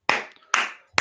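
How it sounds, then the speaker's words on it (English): Three sharp, close hand claps spaced evenly in about a second, each crisp with a short decay. "Let's a round of applause"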